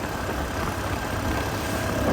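A steady, continuous engine drone runs throughout, loud and close, with a rough low rumble and a broad hiss, the kind of sound made when riding.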